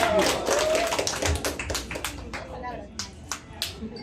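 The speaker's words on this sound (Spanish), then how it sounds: "Fuerte las palmas para Ángel, por favor." Guests clap for Ángel at a baptism party, a scattered, moderately loud patter of hands in a room, with voices talking throughout.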